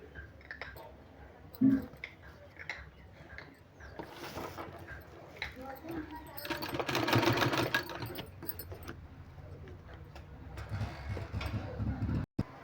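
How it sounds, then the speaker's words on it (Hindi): A sewing machine stitching fabric for a sleeve, running in short bursts of rapid mechanical whirring and clicking, with a longer louder run in the middle and small handling knocks between, no talking. "तो इस तरह से हमने सिलाई लगा लिया है यहाँ फैब्रिक को"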